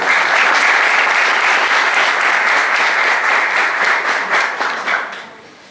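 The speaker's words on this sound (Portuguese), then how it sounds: "peço uma salva de palmas para os colegas aqui" An audience at an academic computing education event applauds enthusiastically with dense, steady clapping for several seconds before it fades out.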